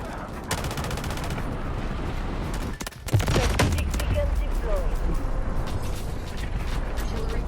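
Rifle gunfire in the mobile shooter game Delta Force Mobile, a steady run of rapid shots with mechanical weapon clatter, loud and continuous across the whole stretch, with a sharper burst near the middle.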